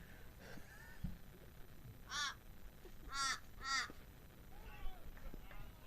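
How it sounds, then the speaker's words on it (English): Crow cawing at a Brisbane Premier League seniors cricket ground, several harsh caws coming in short bursts and a quick pair, fairly faint over low background murmur and distant voices. "A crow there, I think you can hear."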